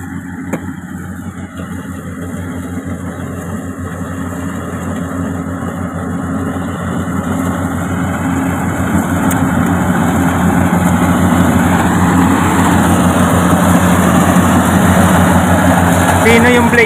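A hand tractor's 12-horsepower engine runs steadily during a rice harvest, a continuous low mechanical drone that grows slightly louder and busier toward the end.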